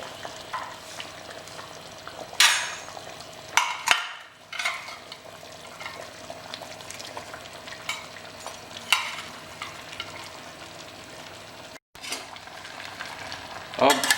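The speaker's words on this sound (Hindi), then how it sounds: "अब इसके अंदर हम प्याज पका लेते हैं।" Onions and browned mutton fry in ghee for a Rajasthani kachri mutton curry, a steady close sizzle broken by several sharp scraping stirs of a spoon against the pan, with no talk.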